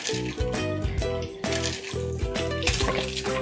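A pomegranate pulled apart by hand in a bowl of water, giving quick wet splashes and sloshes in short bursts, close and fairly quiet, with no talk.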